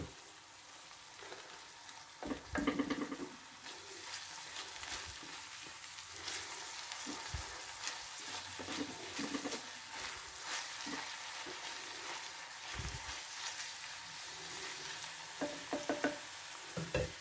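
Onions frying in a pan for a quick liver and heart tagine, a close crackling sizzle punctuated by repeated stirring scrapes and clanks, fairly quiet overall with no speech.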